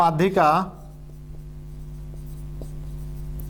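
Writing on a board during a maths lesson on statistics, heard as faint, sparse tapping and scraping strokes after a brief spoken phrase from a teacher.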